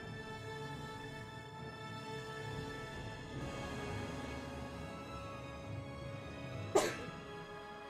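A single sharp sneeze bursts out near the end, close and brief, rising above a low steady background hum of a live gaming stream.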